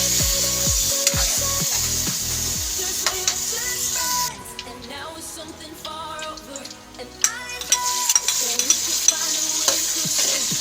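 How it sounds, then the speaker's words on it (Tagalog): Diced potato and carrot fry in hot oil with a loud, steady sizzle, while a spatula scrapes and knocks against the pan; the sizzle briefly drops when the pieces are stirred and then returns. "fry ko muna kunti yung ating sahog na potato at carrot"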